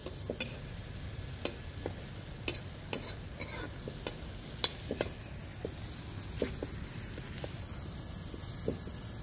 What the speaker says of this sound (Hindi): अभी अदरक लहसुन वगैरह। हाँ ये पूरा अच्छी तरह भून जाना चाहिए।